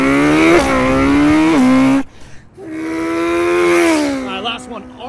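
A voice imitates a Ferrari F8 engine revving: two sustained mouth-made engine howls with pitch rising and dipping like gear changes, separated by a brief pause, loud and close.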